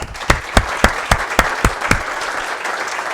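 Audience applause welcoming lecturer Ron Klemencic to the 2021 Sehlin Lecture, a room of listeners clapping with a steady patter and a few sharp, evenly spaced claps standing out near the front before it thins out.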